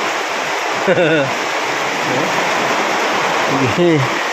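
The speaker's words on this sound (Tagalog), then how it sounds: "Ayan na nga, bumagsak na ang ulan." Heavy monsoon rain pouring down steadily, a dense, loud hiss of water that fills the scene, with brief bursts of someone speaking over it.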